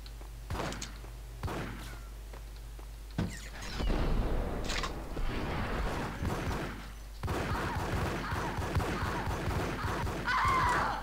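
Gunfire in the video game Max Payne comes as sharp separate shots at first, then a denser volley of thumping impacts and rapid firing, heard fairly close with no talk over it.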